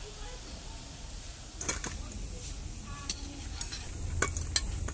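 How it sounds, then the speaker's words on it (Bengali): Semolina gulab jamun sweets deep-frying in hot oil, a steady low sizzle with a few brighter crackles and light utensil clinks, close and moderately quiet, no talking. "এভাবে তেলে লাল করে ভেজে নেব"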